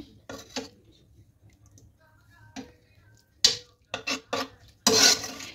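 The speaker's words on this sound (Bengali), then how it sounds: "দেখুন একটা পাত্রে আমি পরিবেশন করছি।" Spoonfuls of cauliflower roast being served into a bowl, giving a few scattered clinks and scrapes of a utensil against the dish, with a louder cluster of taps and a final burst of scraping near the end.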